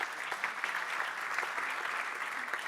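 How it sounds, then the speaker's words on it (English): An audience at a tech conference applauds, an even wash of many hands clapping at moderate distance, steady and unbroken for a few seconds without speech. "A round of applause for her."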